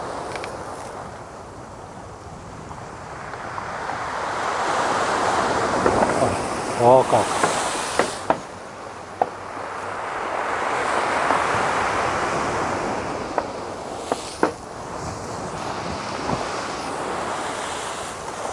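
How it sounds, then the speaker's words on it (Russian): Storm surf pounds a beach on the open sea, waves breaking with a sustained roar that swells and fades twice, buffeted by wind noise on the microphone; a man exclaims briefly midway. "Ну, где волна морская?"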